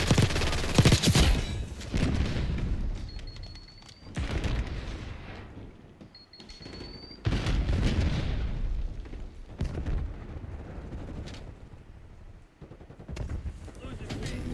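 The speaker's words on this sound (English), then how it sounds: "Incoming Semtex." Semtex grenade blasts and bursts of gunfire in Call of Duty Black Ops 6 multiplayer, loud booms and rapid firing in several intense bursts separated by quieter gaps, with game announcer voice callouts over the action.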